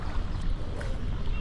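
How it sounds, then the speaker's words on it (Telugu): A shikara boat gliding across Dal Lake in Srinagar, heard as a steady low rumble of water and wind close to the microphone with no distinct splashes. "shikara boat ride in Srinagar"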